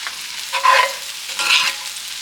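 Spinach sautés briefly with caramelized onions and garlic in a pan, two short scraping stirs over a soft, steady sizzle, close and without talk.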